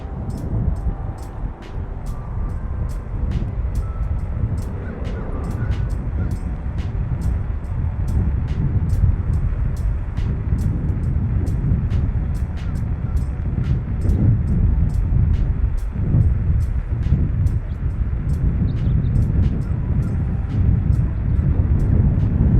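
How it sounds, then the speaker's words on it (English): Jetson Bolt Pro budget e-bike at full throttle, giving a steady loud rush of wind and road rumble with broadband roar throughout and faint ticking clicks repeating regularly above it. "we're going to test the max speed of the e-bike just with the throttle"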